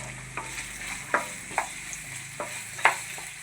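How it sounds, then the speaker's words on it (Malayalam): Potato, carrot and beans fry in hot oil in a kadai, with a faint, low sizzle broken by a few scraping stirs at irregular moments. "എണ്ണ ചൂടായി വന്നിട്ടുണ്ട്, അതിലേക്ക് നമ്മൾ എടുത്തു വെച്ച ഉരുളക്കിഴങ്ങ് ഇട്ട് കൊടുക്കുന്നുണ്ട്."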